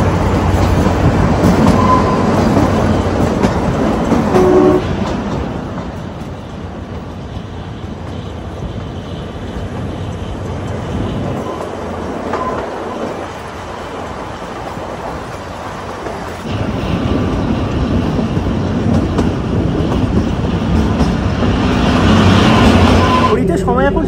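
Kalka-Shimla toy train (Shivalik Express) rolling along the narrow-gauge mountain rails in Himachal, a steady loud rumble with faint clickety-clack that dips midway and swells again, with people talking over it.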